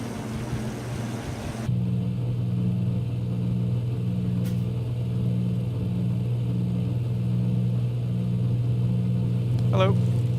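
A DHC-2 Beaver in a flight simulator climbs out after takeoff over Norway. Its engine gives a loud, steady, droning hum with a pulsing rhythm that holds throughout, with a few faint higher sounds passing over it.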